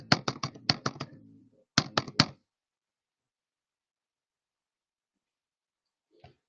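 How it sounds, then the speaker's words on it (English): A computer keyboard typing an IP address: a quick run of crisp key taps, a short pause, then three more taps, close and clear, followed by a long silence and one faint tap near the end. "Let me type the IP here."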